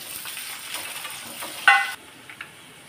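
Chilies and curry leaves hit hot oil for chivda, giving a soft, close hiss with a sharper crackle burst partway through before settling quieter.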